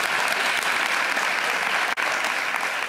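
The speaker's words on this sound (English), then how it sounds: "Let's give them another round of applause." An audience applauds school counselors of the year on stage, a dense continuous clapping that fills the whole stretch with only a brief dip near the end.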